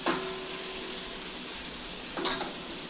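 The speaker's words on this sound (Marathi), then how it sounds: "कांदा गोल्डन ब्राऊन होईपर्यंत भाजून घेऊया." Onions frying in a pan for a prawn biryani, a steady close sizzle with two brief louder scrapes of stirring, no talking.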